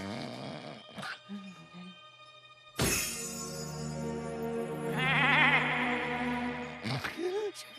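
Goats bleating in a cartoon jungle scene: a short bleat, then a long, loud wavering bleat with a second animal joining, ending in a brief rising cry, no speech.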